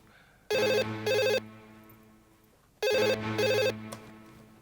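A telephone rings in two double bursts, loud and electronic, with a short pause between them.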